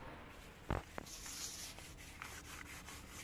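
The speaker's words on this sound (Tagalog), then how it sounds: "Lahat po kasi talaga ng surface na pinipinturahan, bakal, aluminum, wood or furniture, plastic, kailangan na lihain mo yan." Hand sanding on the painted metal floor of a Mitsubishi Pajero, with soft close rubbing strokes, a couple of sharper scrape bursts near the start and quieter rasping after.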